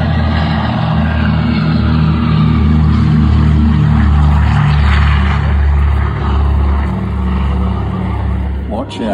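A vintage fighter aircraft's propeller engine drones loud and close at an airshow, its deep pulsing throb wavering in pitch and holding steady for several seconds before abruptly fading.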